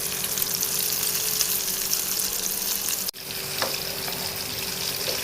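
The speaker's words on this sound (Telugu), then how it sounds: "బాగా ఫ్రై అయిందండి." Homemade KFC-style chicken pieces frying in hot oil, a steady close sizzle and crackle running throughout with one brief dropout midway, no talking.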